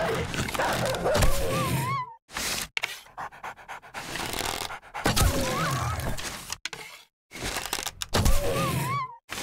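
Zombie dogs in the survival game 7 Days to Die pant harshly and snarl in loud, close bursts, broken by brief silences and sharp game effects.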